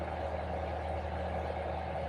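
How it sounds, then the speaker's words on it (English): A gasoline wood chipper runs empty with no wood being fed, giving off a steady, unbroken low engine drone with a faint hum on top. The level stays even throughout, with no chipping or grinding. "this is just the sound of a grinder running with no wood being chipped in it"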